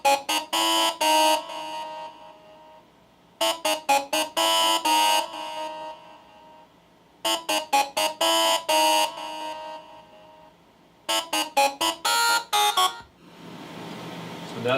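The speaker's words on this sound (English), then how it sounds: "Next thing I always add is a lead. That's a synth. It's kind of for the chorus." Bright synth lead melody for the chorus of a Persian trap beat, playing repeated bursts of rapid staccato notes in four phrases separated by short gaps, loud and alone, ending in a noisy wash.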